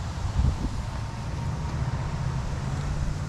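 Steady wind rushes and rustles through foliage, a continuous broad hiss with low buffeting, no voices.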